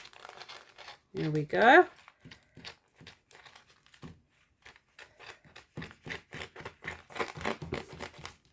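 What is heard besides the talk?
cutting a plastic sheet with scissors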